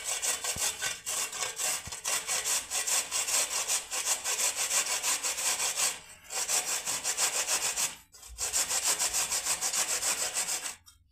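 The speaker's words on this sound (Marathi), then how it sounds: "आता आपल्याला ह्या किसणीने त्यांना किसून घ्यायचं आहे।" Bitter gourd rubbed against a handheld kitchen grater in steady, fast back-and-forth strokes, a loud continuous rasping that breaks off briefly twice before resuming.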